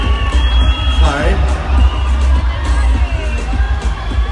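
Dense crowd of supporters screaming and cheering inside a large arena at a beauty pageant, a loud continuous roar with shouts and whoops throughout.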